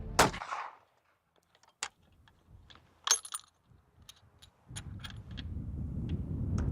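A gun test-fired in a video game: one loud sharp shot at the start, then scattered small clicks and clatter, followed by a low rumbling hum.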